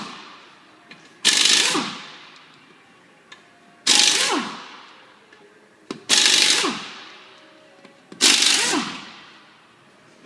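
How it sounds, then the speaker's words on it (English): Impact wrench spinning off wheel lug nuts during a tire change, heard as four loud, separate rattling bursts spaced a couple of seconds apart, each fading quickly, with quiet pauses between. "Once you've got your impact, you're ready to take the lug nuts off."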